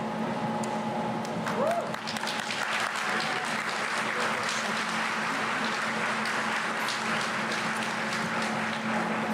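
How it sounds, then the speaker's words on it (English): Sustained applause from an audience at a high school board of education meeting, a steady wash of clapping that fills the whole stretch at even loudness with faint murmuring beneath. "Please hold your applause until we announce the last student."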